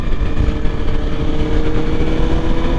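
A Ducati Multistrada V4S motorcycle with 170 horsepower is ridden and leaned through a turn, its loud, steady engine drone held continuously under heavy wind rush.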